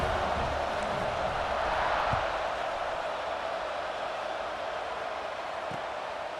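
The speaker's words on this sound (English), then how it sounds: "this crowd is buzzing after that last score" A stadium crowd in the video game EA Sports College Football 26 keeps up a steady, broad buzz after a score. It sounds distant and uniform for the whole stretch, with no clear voices.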